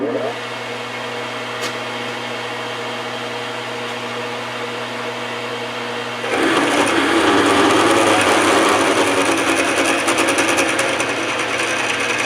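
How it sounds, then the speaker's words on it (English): A metal lathe hums steadily, then about halfway through a louder grinding, scraping noise begins as the drill bites into a steel shaft and continues; the lathe is an Oliver 25A wood lathe running too fast. "We're going to now drill the, hopefully drill this shaft here."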